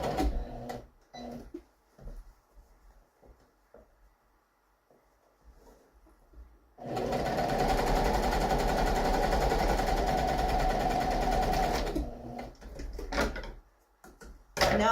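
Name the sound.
sewing machine stitching a French seam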